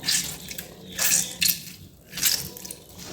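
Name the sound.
draining water from homemade mozzarella cheese curds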